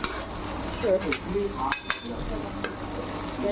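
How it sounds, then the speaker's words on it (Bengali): Chow mein noodles are added a little at a time to a pan and stirred, making a low sizzle with brief scraping and clinking spikes of the utensil, close and moderately loud, with no talking. "এবার আমি দিচ্ছি চাউমিনটা"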